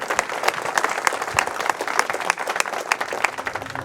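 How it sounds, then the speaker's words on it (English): Audience applause welcoming a speaker to the stage at a morning event, dense steady clapping filling the room for a few seconds with no talk over it. "Could you put your hands together and welcome Dr. Randy Grellner."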